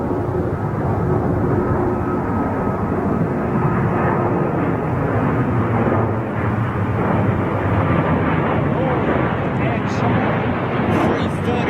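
An Airbus A330 taxis at London Heathrow Airport, its engines giving a loud, steady broadband roar that holds unchanged throughout from a fair distance, with no speech heard over it.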